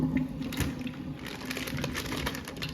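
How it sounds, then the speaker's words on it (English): Pork chops rinsed under running kitchen tap water, with a continuous close splashing hiss and rapid patter of water over the meat, no talk. "Next thing I'm gonna do is rinse off my pork chops and season them."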